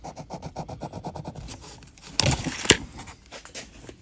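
A pencil marks cardboard while a concrete bonsai pot is being made. Quick scratchy rubbing strokes come first, then a pair of sharper scrapes and ticks, close up and fairly quiet.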